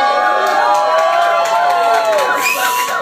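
An audience cheers loudly at a live concert in London, with shouts and whoops layered over a continuous roar of crowd noise across the short stretch.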